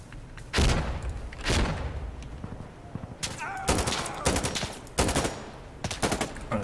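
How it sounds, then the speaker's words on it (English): Grenade blasts and gunfire in the tactical shooter Insurgency: Sandstorm during a beta match, a loud broadband burst followed by repeated sharp shots and thuds, several heavy booms spread across the stretch. "toss a grenade, I suppose"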